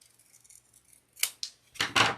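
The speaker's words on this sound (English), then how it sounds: "just notch the bottom here of my tag" A few crisp snips of scissors cutting a notch into a scrapbook paper tag, close and quiet, with small paper rustles before two quick cuts and a final pair of snips.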